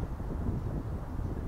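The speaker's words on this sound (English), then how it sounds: "Well, the wind, of course, starts picking up." Steady wind gusting on a Carmel River beach, a continuous low rumbling buffet against the microphone that holds at a moderate level without any talk.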